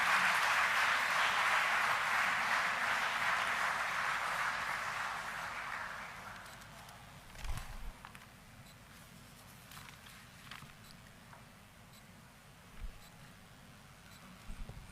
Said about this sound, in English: Ladies and gentlemen, can we give him a big round of applause?